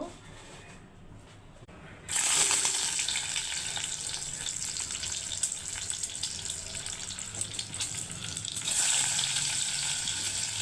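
Pieces of boiled egg hit hot oil for an egg pickle, and a loud, steady sizzle bursts up after a quieter start, then crackles on with a brief surge near the end.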